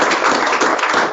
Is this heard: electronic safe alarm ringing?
no